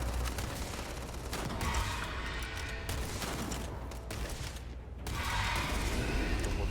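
Sustained rapid gunfire in a video game, continuous bursts of automatic shots with dense overlapping reports filling the whole stretch, loud and close with no pauses.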